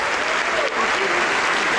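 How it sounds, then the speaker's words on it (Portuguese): Dense, steady applause from a church congregation fills the short moment, loud and continuous with a faint voice beneath. "vamos aplaudir mais"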